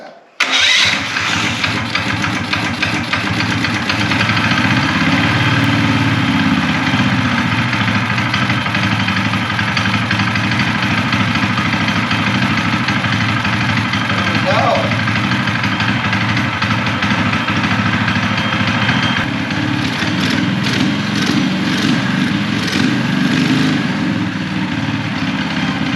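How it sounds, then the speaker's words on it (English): A Mega Moto 212 Pro full-suspension minibike with a muffler cranks and catches, then settles into a steady, loud, close idle that runs on for the rest of the clip. "this thing needs a little bit more idle than that. Let's give it some idle."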